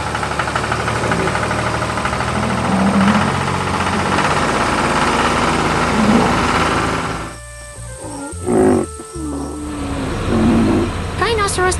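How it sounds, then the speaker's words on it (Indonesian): An animated tractor pulling a trailer through a farm field rumbles loudly with a knocking engine. The sound dips briefly, then picks up again with a few squeaky, whirring accents near the end. "Traktor dan trailer sedang bekerja keras mengangkut tanaman segar yang akan dijual di pasar."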